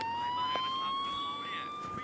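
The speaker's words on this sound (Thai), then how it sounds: "แล้วผมก็ได้ยินเสียงไซเรนนีต" Siren from the Siren Head map in the Minecraft video game, a steady rising tone with harmonics that plays loud and continuous.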